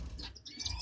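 A dark chocolate silverbill finch in a birdshed gives quick, high chirps and tweets, scattered and fairly close over a low background rumble.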